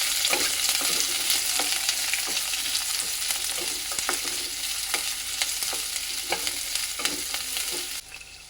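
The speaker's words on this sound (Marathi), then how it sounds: "कांदा आपल्याला तेलावरती छान असा भाजून घ्यायचा आहे" Sliced onions fry in hot oil in a wok with a loud, continuous sizzle and repeated scraping stir strokes, close and steady until the level drops near the end.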